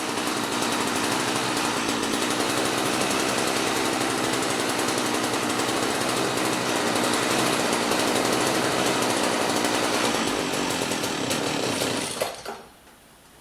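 A small two-stroke engine on garden equipment runs loud and steady at high revs for several seconds as the carburetor empties of petrol, then abruptly cuts out and dies away.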